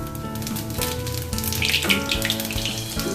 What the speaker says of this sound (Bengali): জিরাটা ভাজা হয়ে গেছে